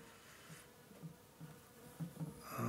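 A low, steady hum of honeybees inside a hive fills the clip, with soft pulsing swells of buzzing, as the colony is opened for a December inspection.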